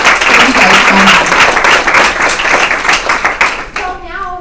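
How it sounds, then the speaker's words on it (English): Audience at a women's empowerment event gives panel speakers a loud round of applause, dense sustained clapping that tapers off at the end as a voice begins. "can we give them a big round of applause?"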